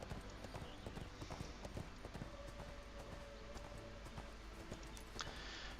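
Horse mount in the video game ArcheAge, hooves clip-clopping in a steady, even gait for several seconds, close and clear, with a faint voice in the background.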